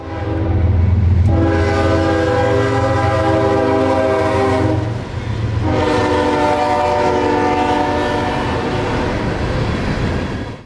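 A loud, continuous train horn blares with steady harmonic tones over the deep rumble of a passing CSX freight train carrying rock near Plant City, Florida, with a brief dip between blasts.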